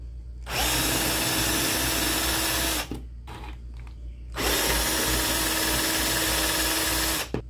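A diamond sharpener grinds the teeth of a chainsaw chain with a loud, steady, high whirring buzz. It runs in two long bursts with a short, quieter gap between them, close by and with no talk.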